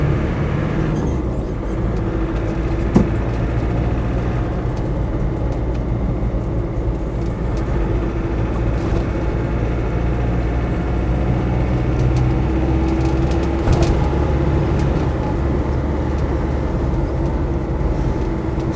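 Land Rover Defender 300Tdi truck cab on the move, a steady loud diesel engine drone with road rumble heard from inside the cab, sustained without talk.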